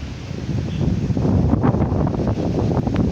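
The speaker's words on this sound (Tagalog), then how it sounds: "Sarap ng hangin ngayon dito." Steady wind buffeting a microphone outdoors at Kaybiang Tunnel, a continuous low rumble with gusty swells throughout and no voices.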